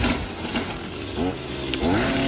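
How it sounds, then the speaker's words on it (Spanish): A chainsaw cuts through a tire band, producing a continuous loud, rough engine roar with grinding buzz that stays close and steady for the whole stretch, with faint voices mixed in. "Quitando una banda con una motosierra, me gusta tu idea."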